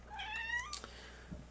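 A cat gives one short, quiet, rising-and-falling meow indoors, followed by a few soft rustles.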